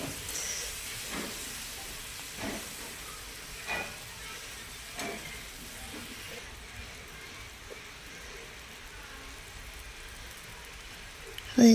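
Semolina for upma fries in a pan with a soft, steady sizzle and occasional scraping stirs, fairly quiet and continuous.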